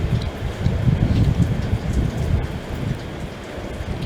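Steady rain pours down with a dense, continuous patter and a low rumbling undertone, close and fairly loud throughout.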